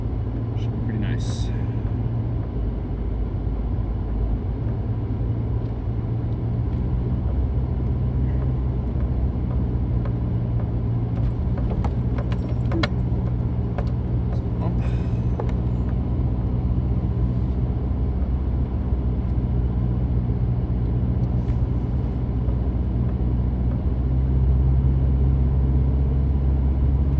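A Mitsubishi Delica van's four-cylinder engine drives on a mountain road near Yamaguchi, a steady low rumble with a droning hum throughout, while a person talks over it.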